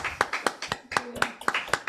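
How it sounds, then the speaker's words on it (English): Livestream audience applauding over unmuted microphones, a thin, uneven patter of a few hand claps in a steady rhythm, close and moderately loud. "unmute these microphones and let everybody applaud"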